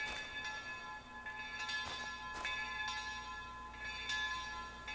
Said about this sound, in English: Well, church bells are ringing.